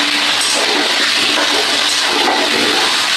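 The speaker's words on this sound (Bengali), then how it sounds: "এই পর্যায়ে আমি একটু সামান্য জল দেব মশলাটা কষানোর জন্য।" Water is added to spice paste frying with potatoes in a pan, producing a loud, steady, close-up hiss and sizzle that runs throughout without pause.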